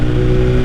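A 2021 BMW S1000RR M with a titanium Akrapovic exhaust roars loud and steady at high revs, its dense engine note close and unbroken throughout.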